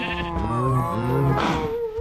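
A sheep in Minecraft bleats in a long wavering cry, followed by a second bleat, close and clear against a quiet game background.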